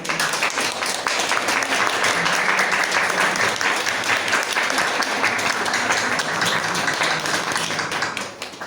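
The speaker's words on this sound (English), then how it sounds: "Please give a huge round of applause." An audience at an academic conference on teacher education gives a full round of applause, a continuous, even patter of many hands that holds steady for several seconds before tapering off at the end.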